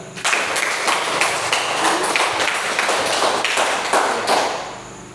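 Classroom applause for a student group after their presentation, dense steady clapping from many hands lasting throughout, fairly loud and close with no talk over it.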